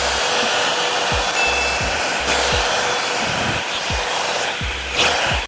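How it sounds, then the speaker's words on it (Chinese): A Revlon hair dryer blows hair dry with a steady, loud, continuous whoosh and occasional soft knocks as it is moved, with no talking. "那接下来我就把另外一边头发也给吹干"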